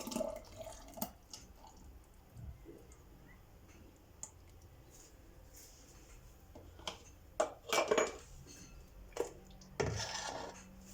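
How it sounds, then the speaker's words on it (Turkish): Cornelian cherry marmalade being spooned into washed, dried glass jars, giving scattered clinks and wet drips that grow louder and denser toward the end, near and without speech. "yıkayıp kuruttuğumuz kavanozlarımızın içerisine dolduruyoruz"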